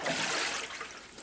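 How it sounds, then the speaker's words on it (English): Water rushes steadily through a washing machine drain hose, a continuous close-up gushing hiss with no voices. "Oh yeah, definitely a bunch of water flowing through there."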